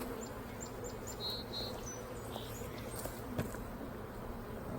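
Honey bees buzzing around an open beehive, a faint steady hum of many insects with a few brief louder passes of single bees, and some quiet birdsong in the background.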